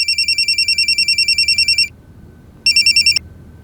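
A telephone ringing inside an office, loud electronic trilling rings: one long ring, a pause, then a second shorter ring, close and clear with no talking.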